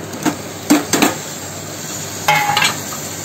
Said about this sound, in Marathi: हे चांगलं परतून घेऊया।